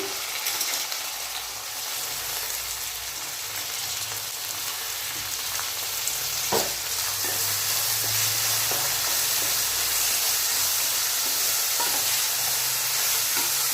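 Potatoes and chopped carrots frying together in a pan, a loud, dense continuous sizzle like steady rain with occasional spoon knocks and stirring scrapes, no speech.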